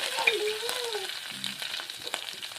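Garlic and coriander frying in hot oil: a close, even crackling sizzle, with a brief tonal voice sound near the start.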